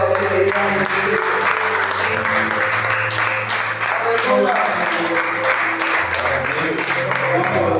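Congregation in a church service claps along over loud music with sustained tones, the applause a dense steady rhythm mixed beneath singing and amplified sound.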